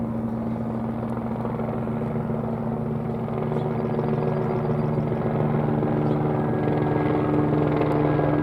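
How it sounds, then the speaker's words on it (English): A helicopter heard from the ground on a drive home in Los Angeles, with a steady low rotor drone and engine hum that stays constant and fairly loud, mixed with vehicle rumble. "Incoming helicopter here as I approach home."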